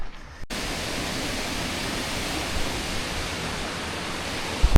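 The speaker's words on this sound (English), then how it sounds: "Some waterfalls over there." Waterfalls roar along the Caminito del Rey cliffside hiking path, a steady, dense broadband rush that starts abruptly after a brief quiet moment and holds evenly throughout, with no voices over it.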